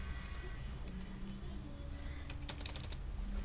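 Keys tapped on a computer keyboard while entering a note password in Microsoft OneNote, a quick burst of light clicks near the end over steady background hum.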